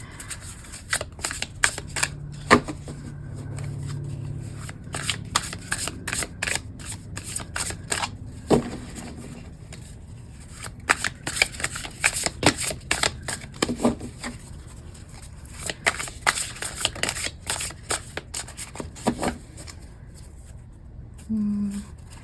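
Tarot cards being shuffled and handled for a pick-a-card reading, long runs of crisp riffling and flicking close up, with pauses, light tapping and soft rustling between bursts, no speech.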